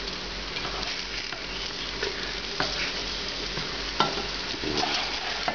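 Eggplant slices fry steadily in olive oil in a pan, a continuous close sizzle with occasional soft clicks and scrapes as pieces are turned, no voices.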